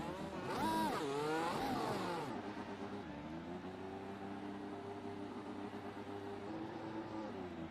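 Formula One race cars circling the Indianapolis oval in a racing video game, engines whining loudly as one car rises in pitch and sweeps past, then a steady droning engine tone carries on alone.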